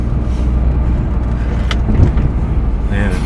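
A Maruti 800 car cruising in third gear, its engine hum and road noise loud and steady from inside the cabin throughout, with a person talking over it.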